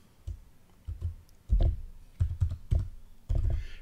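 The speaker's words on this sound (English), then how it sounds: "and then type in my last name" Fingers type a last name on a computer keyboard, a close series of quick, uneven key clicks and taps in irregular bursts, with no talking.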